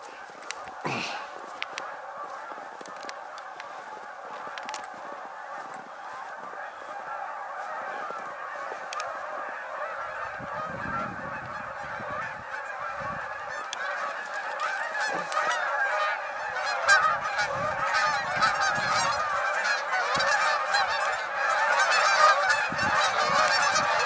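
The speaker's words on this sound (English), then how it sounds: "That's a lot of geese" A large flock of geese honks continuously, a dense, overlapping chorus of nasal calls that swells louder toward the end, with scattered rustling and low noises beneath.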